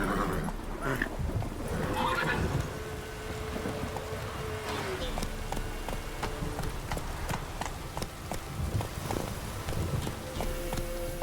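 Roach the horse gallops through The Witcher 3 with steady rhythmic hoofbeats and a brief whinny, mixed under game ambience and occasional talk.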